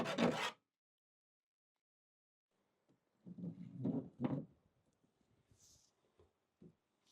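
A file rasps against a camper van's external electric hook-up fitting to trim it, coming in a few short close strokes after a brief bump and a long quiet pause.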